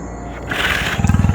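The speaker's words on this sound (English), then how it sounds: "lion," A lion's roar rises loud and close, a sustained rumbling roar followed by a run of rhythmic grunting pulses at the end, with no talk.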